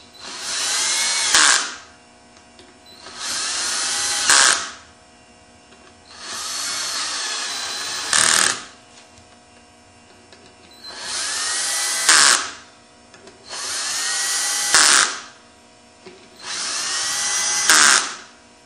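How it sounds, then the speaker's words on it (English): An electric screwdriver on its lowest torque setting runs in six separate bursts, driving the screws that join motorcycle engine crankcases. Each whirring run lasts about two seconds and ends with a brief clutch click, with quiet gaps between runs and no talk. "Set the electric screwdriver on the lowest torque setting, which is like 2 foot-pounds. So it just puts them into the hole."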